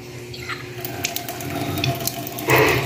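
Water runs steadily from an outdoor sink tap where a cat drinks, a close continuous trickle with a small splashing surge near the end.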